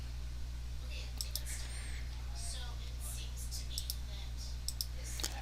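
Clusters of quick, light computer mouse clicks ring out close by over a steady electrical hum, with faint breathy voice sounds in the background.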